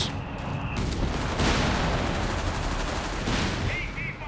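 Sustained battlefield gunfire in Company of Heroes 3, with rapid bursts of shots and heavier booms from anti-tank guns layered into a loud, dense fusillade throughout.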